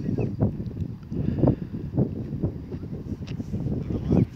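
Gusty wind buffeting the microphone in uneven rumbling pulses on an open village pasture, loud and low, continuing throughout.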